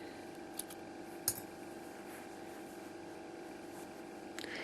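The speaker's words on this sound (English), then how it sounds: "And then we're going to cut off our yarn." Scissors snip through crochet yarn, a single quick faint cut followed by a few light clicks, set against a quiet room hiss.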